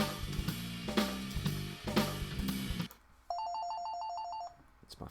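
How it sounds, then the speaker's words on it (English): A mobile phone ringtone trills in the background of a studio session, a repeating bright electronic melody entering partway through after loud music cuts off. "It's my phone going off in the background."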